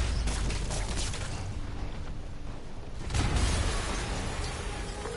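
A loud, rumbling video game explosion in a Spider-Man game, with crackling debris, a second surge of booming noise partway through, dense and close, no voices.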